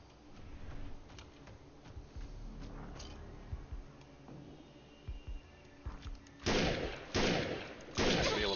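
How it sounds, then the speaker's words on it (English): A semi-automatic sniper rifle in the shooter game Defiance fires three loud, spaced shots near the end, after a stretch of quieter clicks and ambient game sounds. "This is a semi-automatic sniper rifle."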